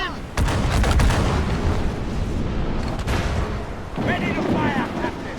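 Ship cannons fire in a naval battle in Assassin's Creed 4 Black Flag, with several loud booming blasts and rumbling aftermath over the sea, a voice briefly calling out amid the roar.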